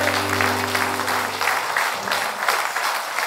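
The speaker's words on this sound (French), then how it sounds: "vous pouvez d'ores et déjà vous applaudir bien fort" The crowd at a live stand-up comedy show by Daniel Rabier applauds loudly, dense continuous clapping filling the venue, with a low sustained hum running underneath for the first couple of seconds.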